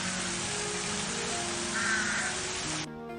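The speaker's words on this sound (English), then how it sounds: "Crow is the answer." A crow caws over a steady hiss, a single call standing clear at moderate distance before the sound cuts off abruptly near the end.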